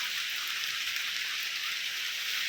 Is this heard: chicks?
no